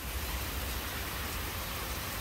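Steady rain pours down outdoors in a dense, even hiss that fills the moment without any voices.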